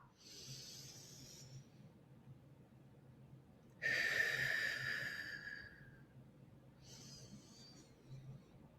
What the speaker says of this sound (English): I want you to take 3 really deep breaths in all the way to the belly